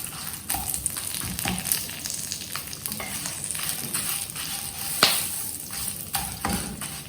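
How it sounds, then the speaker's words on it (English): Whole spices and Kashmiri chillies fry in a pan for Maharashtrian goda masala, giving a steady soft sizzle with scattered crackles and a sharper pop near the five-second mark; no one speaks. "Saute this. Fry this nicely."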